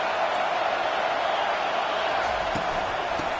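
Constant roar of a stadium crowd at a football game, a dense, unbroken wash of many voices at steady volume.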